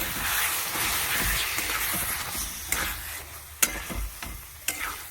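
Spices fry in a pan for a Bengali gravy as a little water is added, giving a steady close sizzle with intermittent stirring scrapes and clicks from a utensil against the pan.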